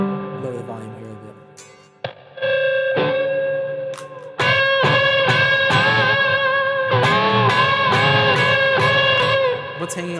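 An electric guitar played through a distortion effect for solos sustains bright, buzzing held notes and chords, growing louder and denser after a few seconds, close and alone without talk.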